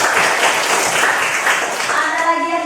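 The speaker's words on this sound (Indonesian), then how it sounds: "Tepuk tangan buat temannya." Students in a classroom applaud a classmate who has just answered and sat down, a fairly loud patter of clapping throughout, with a voice emerging near the end.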